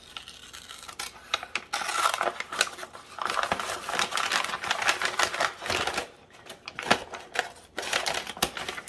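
Scissors snip through a paper bag for a basket craft, giving a busy run of crisp cutting and crinkling bursts close up, with brief pauses between clusters of snips and no talking.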